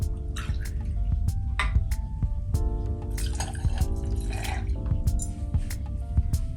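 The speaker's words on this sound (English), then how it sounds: "And then we'll add 2 ounces of chili infused tequila." Chili-infused tequila is poured into a cocktail over ice aboard a charter yacht, giving a soft, steady trickle and drips. Tonal background sounds and occasional sharp clicks run underneath the whole time.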